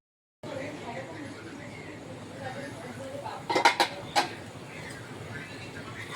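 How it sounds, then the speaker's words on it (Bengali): A metal lid goes back onto a cooking pot of vegetarian paneer tehari, giving a few quick, close clinks and clatters over a soft, steady background hiss. "এবার আবার ঢাকা দিয়ে দিই"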